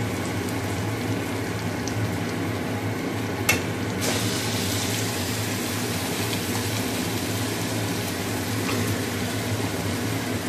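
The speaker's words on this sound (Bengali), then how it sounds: "মাছের সাথে মশলাটা কষা হবে। কিছুটা কষে নিয়েছি, তারপরে কাঁচা মাছগুলো দিয়ে দিলাম।" Raw fish cooks with onions and a spice masala in a pan, a constant low sizzle and bubbling with occasional stirring scrapes and a brief clatter near the start, no talk.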